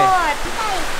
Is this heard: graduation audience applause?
no